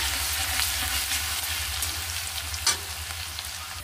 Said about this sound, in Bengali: এবার আমি তেলের মধ্যে রসুনটা দিয়ে দেবো, দিয়ে ভালো করে নেড়ে নেব